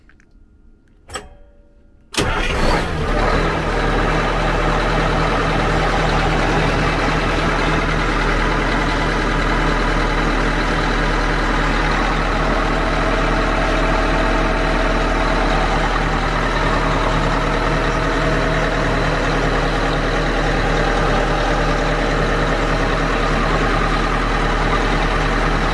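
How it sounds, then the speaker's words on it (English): Cold marine engine on a Tollycraft 61 yacht cranks briefly and catches at about two seconds, then settles into a steady, loud, close idle that drones on alone for the remaining twenty-odd seconds. "Pretty good startup. So that's the newer engine."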